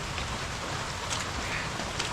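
Steady rain falls on a farm, a continuous soft hiss of drops close by with no voices, filling the short stretch evenly.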